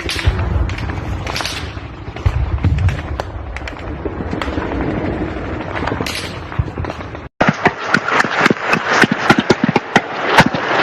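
Gunfire in combat footage from a Tajik–Kyrgyz border conflict, including sniper fire, with dense, loud cracks and booms. After a brief cut, a rapid series of sharp shots repeats at a fairly regular pace.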